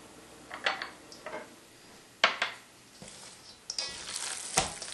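A meat loaf mixture is worked in a bowl, heard as a few soft squishy pushes and irregular clinks of a utensil against the dish, close and quiet with no voices.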